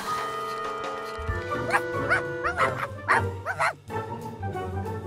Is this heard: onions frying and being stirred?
no